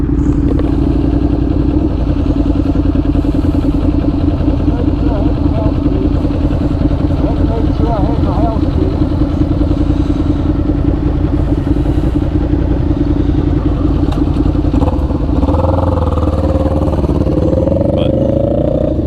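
A Suzuki SV650X motorcycle engine running while riding, a steady loud throbbing drone throughout with a shift in pitch near the end, and a person talking over it.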